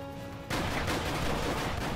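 Rapid bursts of gunfire erupt after a short quiet stretch, continuing as loud, dense automatic shooting in the video game Alpha Protocol.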